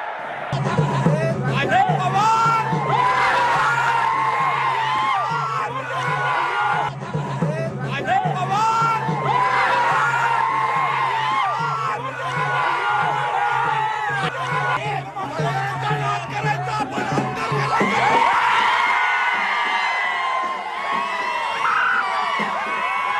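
Party workers celebrating an unopposed election win with firecrackers, dancing and singing, a dense crowd cheering, shouting and whooping continuously, with many voices chattering throughout.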